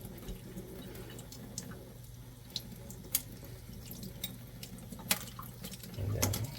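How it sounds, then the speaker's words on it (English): Cold water runs steadily from a kitchen tap into a sink while hard-boiled eggs are peeled, with scattered drips and small clinks over the continuous flow. "we turn on a little bit of the cold water running"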